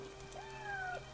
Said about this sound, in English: Look, a kitty!